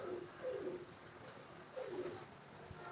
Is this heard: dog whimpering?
no